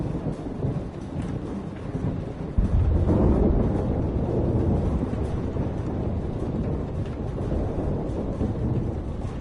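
A thunderstorm rumbles in a narrative video game, with a low continuous roar that swells into a heavier, louder rumble partway through and then holds steady like rain and distant thunder.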